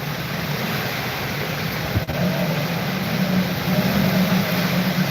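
Hurricane Milton wind blowing outdoors as the storm approaches: a steady, rushing roar with a deep low rumble, continuous and fairly loud, with no voices.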